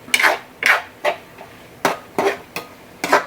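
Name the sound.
covering the cooking pot with its lid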